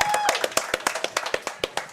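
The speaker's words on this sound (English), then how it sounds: "Y'all give a big ruckus round of applause for the Huntsville Hornet Quarterback Club president" Scattered claps ring out for the Huntsville Hornet Quarterback Club president at a coaches show, a handful of sharp, close, fairly evenly spaced hand claps rather than a full crowd ovation.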